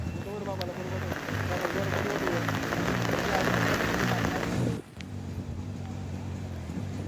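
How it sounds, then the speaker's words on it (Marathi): Heavy monsoon rain falls without pause in Palghar district, where streets are waterlogged. It makes a loud, close, drumming hiss on surfaces, with a voice talking over it, then drops suddenly to a softer, steady patter. "सतत पाऊस कोसळतोय आणि या मुसळधार पावसामुळे अनेक भागामध्ये पाणी साचलेलं आहे"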